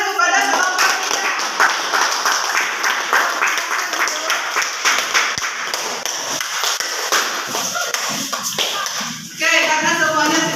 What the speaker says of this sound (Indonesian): kita berikan tepuk tangan kepada kelompok kita